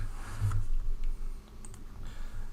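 Typing on a computer keyboard while working in CAM software, a few quick irregular clicks and taps against a low background hum, close and fairly quiet, with no speech.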